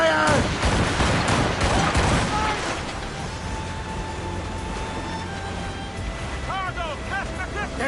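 Naval cannon fire from a sailing warship in Assassin's Creed Rogue, dense booming volleys in the first few seconds over wind and sea noise, fading into a washed backdrop with a shouted command heard early on.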